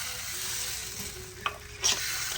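Pitha batter fries in oil in a pan, a low steady sizzle carrying under two short sharp clinks of utensil against the pan.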